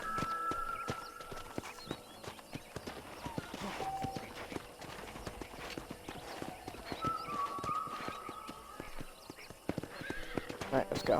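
Hooves clip-clop steadily from a Hungarian half-bred war horse in Red Dead Redemption, with whinnies rising at a couple of points, while someone talks over the game sounds throughout.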